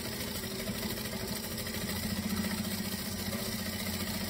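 A sewing machine runs steadily while top stitching along the outer edge of a fabric saddle bag, a continuous mechanical whirring hum with rapid rhythmic needle chatter, close and alone.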